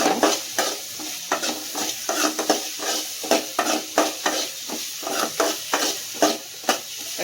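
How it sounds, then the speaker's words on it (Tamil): Onions sautéing in a pan for prawn thokku, a soft sizzle under repeated scraping and stirring strokes of a spoon at a steady, brisk rhythm, close and clear with no talking. "வெங்காயம் வந்து நல்லா பச்சை வாசனை போகிற அளவுக்கு நல்லா வதங்கணும்."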